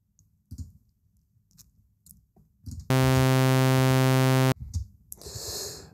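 Default saw wave from the Sylenth synthesizer: a bright, buzzy sustained tone held steadily for about a second and a half, with faint clicks and quiet handling noises before and after.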